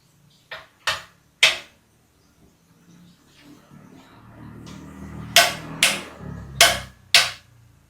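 A Hokini HCW350 impact wrench tightens an M16 bolt at 200 Nm, firing short, sharp hammering bursts: three quick pulses, a pause, then four more, loud and close.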